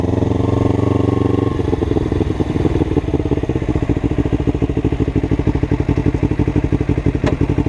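Carbureted Kawasaki Ninja 250R motorcycle engine idling close by, a steady rapid loud putter that shifts to a slightly rougher, more pulsing rhythm after a couple of seconds, with no talking.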